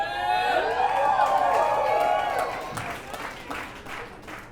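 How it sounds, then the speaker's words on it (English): An audience at a storytelling comedy show bursts into cheering, whoops and clapping, loud at first. The noise then thins into scattered applause that tapers off. "you guys applauded too soon"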